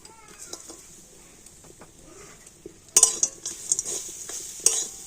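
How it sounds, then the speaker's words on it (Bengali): A utensil scrapes and clinks against a wok while stirring grated coconut with date palm jaggery for a sweet filling. Soft rustling turns into louder scraping bursts with a faint sizzle, and no talking. "আর এবার এইভাবে নাড়াচাড়া করে তো সুন্দর একটা পুর তৈরি করে নিতে হবে"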